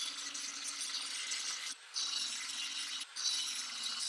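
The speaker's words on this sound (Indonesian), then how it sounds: "ganti mata gerinda kasar untuk menghaluskan bagian atas pisau yang penyok" A coarse grinding disc smoothing the dented spine of a knife blade gives a continuous harsh, hissing grind, close and fairly steady, broken by two brief pauses where the disc lifts off the steel.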